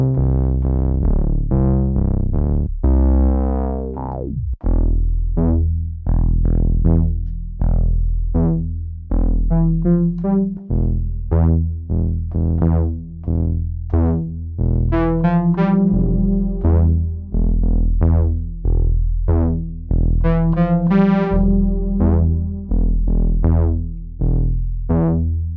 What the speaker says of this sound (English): you're hearing things like the chorus and reverb. That's without. There's a little bit of distortion.